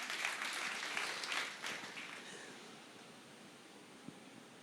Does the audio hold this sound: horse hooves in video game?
no